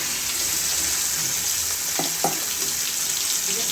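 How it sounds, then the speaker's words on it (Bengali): Fish frying in hot oil in a wok, giving a constant close sizzle with a couple of brief clinks near the middle and no talking. "তেল গরম হয়ে গেছে, মাছ দিয়ে দিলাম"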